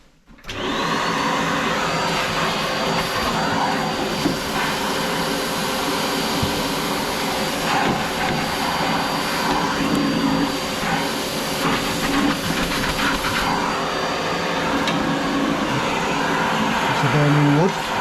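A vacuum cleaner hoovers ash and debris out of a Fireline wood-burning stove with the bricks and baffle being removed, a steady loud drone running almost unbroken throughout with occasional knocks and shifts in tone.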